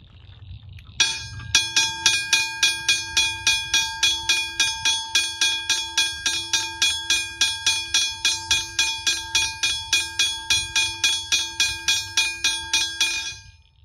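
A bright, clanging railway crossing bell, a hybrid bell, strikes rapidly and steadily, ringing continuously for over ten seconds at close range with no voices.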